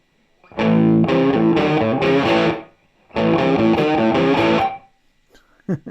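Epiphone SG400 electric guitar on its bridge pickup playing two loud distorted chord phrases with a short gap between them, strummed riffs ringing out before fading into silence.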